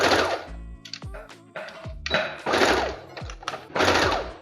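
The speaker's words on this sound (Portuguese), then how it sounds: "Faz uma costurinha reta." Sewing machine running a straight French seam on summer strappy dress fabric, several short bursts of stitching separated by brief pauses and thuds of handling.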